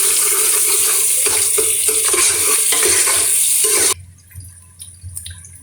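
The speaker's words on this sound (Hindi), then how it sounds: "इस प्याज को मैं अच्छी तरह ब्राउन करूँगी।" Onions for chicken haleem fry and get stirred in a pan, a loud steady sizzle with scraping for about four seconds before it cuts to quieter kitchen sounds.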